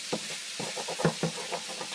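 Chicken and shrimp fajitas being stirred in a hot pan while reheating: close, irregular scraping stir strokes over a steady sizzle, with no voices.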